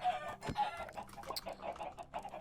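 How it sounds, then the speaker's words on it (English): Minecraft chickens, in the All the Mods 6 modpack, cluck close by in short, uneven bursts, with a few sharper squawks mixed in, fairly quiet and with no talking. "I'm moving these chickens off camera."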